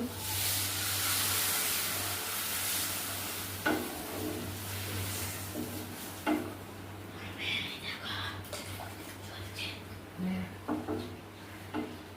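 Water poured into a hot pan of oats soup brings a loud hiss and sizzle at first, settling into a softer bubbling with occasional utensil knocks and a faint voice.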